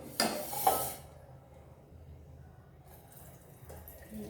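A brief splash of water being poured out of a cooker near the start, followed by quieter trickling and faint background noise.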